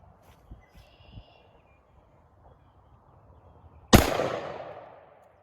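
A single AK rifle shot is fired at a piece of surplus body armor outdoors. Faint birdsong and quiet rustling come first, then one loud, sharp crack with a long decaying echo.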